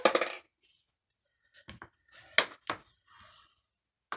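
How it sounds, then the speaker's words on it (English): Cardstock being folded in half and creased with a bone folder, heard as a short papery rustle followed by several sharp taps and scrapes, close and quiet with silent gaps between them. "I'm just going to fold that in half and grab my bone folder"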